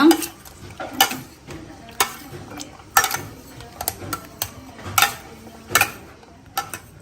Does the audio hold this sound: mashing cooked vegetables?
yes